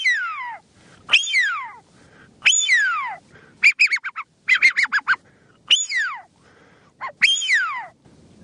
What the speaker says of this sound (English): Alberto is a dab hand with his own duck calls